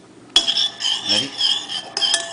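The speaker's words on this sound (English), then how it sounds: "You have to really get it nice and stirred. Make sure all your salt is dissolved." A utensil stirs salt into white vinegar in a dish, making bright, ringing scrapes and clinks in quick repeated strokes, close up with no talk.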